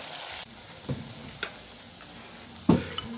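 Spice paste and chopped tomato fry in a pan for ghugni, a soft steady sizzle broken by a few sharp scrapes and clinks of a stirring spoon, one louder near the end.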